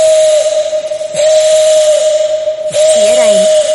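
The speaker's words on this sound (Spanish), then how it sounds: "El potente silbido de la concha se escuchó retumbando en las paredes del cañón." Three long, loud whistle blasts on a steady pitch from a blown conch shell, separated by brief gaps, echoing off canyon walls, with a faint voice at the end.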